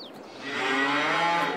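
Cows in the Farming Simulator 22 video game give a single long, swelling moo, loud and close, with no talk over it.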